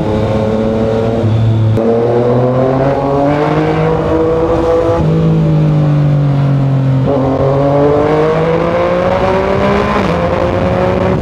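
A 2019 Yamaha Niken 900 three-wheeled motorcycle is ridden and accelerated: a loud, close engine note that climbs through the gears in repeated rising sweeps, dropping at each shift and pulling up again.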